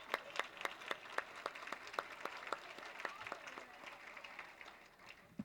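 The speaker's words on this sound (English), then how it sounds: "A round of applause for that group." A banquet audience gives a round of applause for a performing group at a Citizen of the Year dinner in 1996; sharp, rhythmic claps at a steady beat, fairly faint and distant, tapering off near the end.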